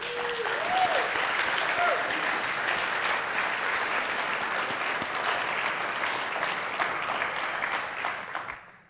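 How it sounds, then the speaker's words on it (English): Sustained applause from a cabaret audience, a dense wash of many hands clapping at steady loudness for several seconds before cutting off abruptly. "I think you all deserve a round of applause"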